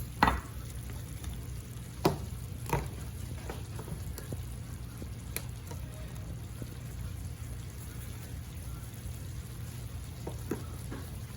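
Vegetables for beef tacos sizzle steadily in a hot pan, a continuous crackling hiss with occasional louder pops and stirring clicks, close and even throughout.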